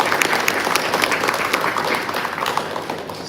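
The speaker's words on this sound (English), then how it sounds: "big round of applause for them first" Community talk audience giving a big round of applause for the volunteers: dense, continuous clapping from many hands, loud and close, holding steady for a few seconds before easing slightly.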